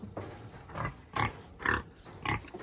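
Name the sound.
feeder pigs loaded on a farm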